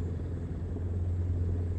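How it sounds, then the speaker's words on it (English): A truck engine in an ArmA 3 Vietnam combat game rumbles low and steady at a distance, a continuous muffled drone with no voices over it. "I think it's a truck."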